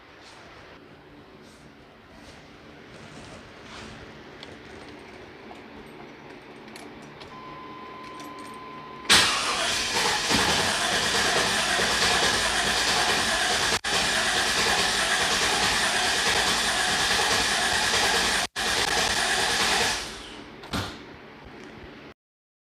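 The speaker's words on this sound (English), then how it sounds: "I'm going to go in and turn the key and see if this thing cranks over." A 2000 Chevy crew cab dually, sitting for almost five years, cranks over loudly after a quiet lead-in, with a steady churning starter drone holding for about ten seconds and two brief dropouts before cutting off.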